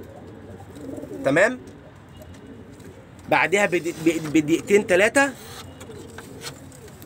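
Pigeons coo close by: one short burst, then a longer run of rhythmic throaty pulses a couple of seconds later, while someone speaks over them.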